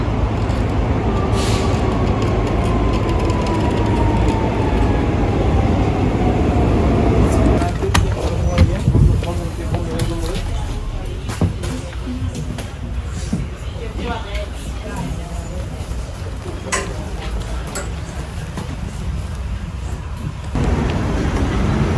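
Rumbling ride inside a tram in Rome: a steady low rolling drone with a falling whine, clacks and rattles, and people talking faintly throughout.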